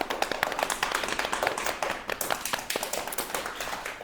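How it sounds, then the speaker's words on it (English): Hands slap rhythmically on the thighs in a yoga-style exercise class, a quick, even series of sharp claps repeating for several seconds, fairly loud and close, with no voices over them. "Let's clap our quadriceps."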